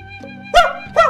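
A dog gives two sharp, close barks about half a second apart, heard over a steady tonal hum in the background.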